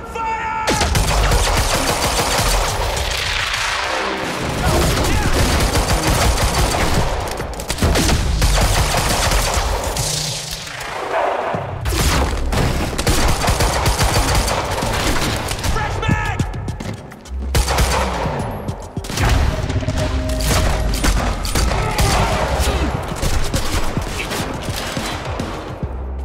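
Heavy, continuous gunfire in the Quantum Break video game, dense overlapping volleys roaring loudly almost without pause, with brief dips between waves of shooting near a bridge.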